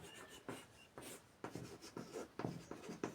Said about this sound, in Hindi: लिखते हैं पदार्थ